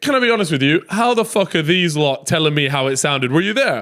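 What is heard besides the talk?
None of the usual background noises is heard.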